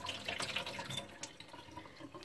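Soaking water drains off steeped figs for a homemade liqueur, a faint steady splashing pour with small trickles and drips throughout.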